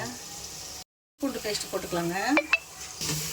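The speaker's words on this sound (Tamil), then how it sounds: "இஞ்சி பூண்டு பேஸ்ட்டு போட்டு நல்லா வதக்கிக்கலாங்க." Onion, tomato and ginger garlic paste sautéed in a pan for mutton paya salna, a sizzle broken by a short silence, then scraping spoon strokes and clinks, with a voice speaking over part of it.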